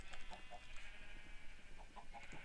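Chickens cluck softly in a Minecraft-style video game, a few short faint clucks over a steady background hum.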